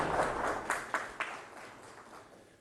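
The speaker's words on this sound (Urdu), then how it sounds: "بہت ساری تالیاں ہونی چاہیے ان کے لیے." Applause from an audience at a Pakistani government ceremony honoring medal-winning athletes, with a few louder claps standing out early before it fades away.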